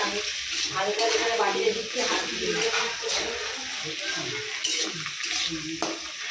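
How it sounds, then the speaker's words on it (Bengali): Whole garam masala, green chillies and sliced onion fry in hot oil in a kadai, giving a steady close sizzle with occasional stirring scrapes and a voice talking over it. "তো এখন কড়ার মধ্যে গোটা গরম মশলা, লঙ্কা এগুলো সব ছেড়ে দিয়েছি, পেঁয়াজ কেটে দিয়েছি।"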